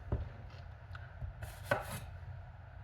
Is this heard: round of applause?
no